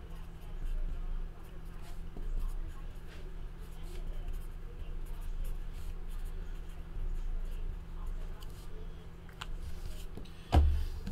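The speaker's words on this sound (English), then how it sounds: "Let me write this down." A pen scratches quietly across paper while notes are taken during a trading card pack opening, the faint strokes sitting under a low background hum, with a sharper knock near the end.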